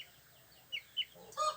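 Chickens, likely a pair of hens, give a few short, sharp clucks and calls at moderate distance over a quiet background, ending in a louder burst of clucking.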